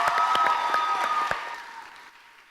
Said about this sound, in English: how about one more round of applause for all three of our project finalists?